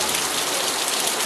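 Heavy rain pours down steadily at the Ubud market in Bali, a dense, loud, unbroken hiss of falling water with no voices.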